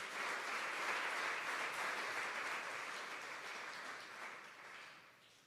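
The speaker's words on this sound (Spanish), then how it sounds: "Denle un aplauso a Dios, iglesia" Church congregation applauding in praise during a sermon, a steady dense crackle of many hands that holds for several seconds and slowly thins toward the end, with no voices over it.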